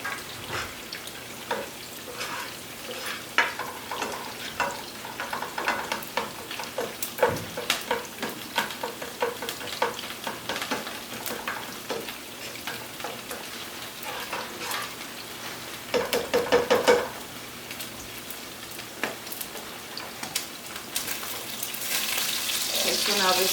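A Boricua dish frying in a pan, steady close sizzle and crackle with occasional stirring scrapes and utensil clinks, running continuously without talk.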